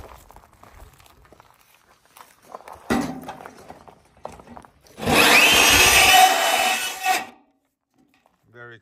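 A square metal downspout is cut, with scattered handling clatter and a knock, then a loud two-second grinding, rasping cut at close range before it stops, with faint voices early on.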